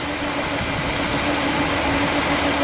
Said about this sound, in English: Let me just show it what it looks like when it's running normally.